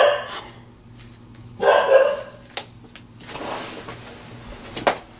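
A dog barks indoors in a couple of close, moderately loud bursts, mixed with knocks like a drawer or cupboard.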